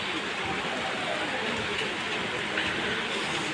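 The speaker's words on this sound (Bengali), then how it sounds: "টিপ টিপ টিপ টিপ করে বৃষ্টি পড়তেই আছে" Rain falls steadily on an afternoon in the rainy season, a constant, fairly loud broadband hiss with no clear breaks or voices.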